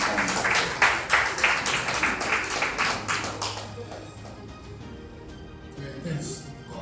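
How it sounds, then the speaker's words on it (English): A conference audience at a developer event claps for a speaker walking on stage. The applause is dense and loud at first, then fades over a few seconds, and a voice speaks as it dies down. "Please give him a round of applause as he comes."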